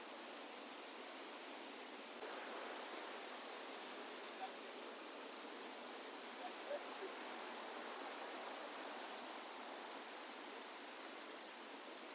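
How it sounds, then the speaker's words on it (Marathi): A river in flood, running with red water past farmland, roars as a steady, broadband wash of rushing water that stays even throughout, fairly distant and unbroken. "तर गाईज आमच्या नदीला आलेला आहे पूर"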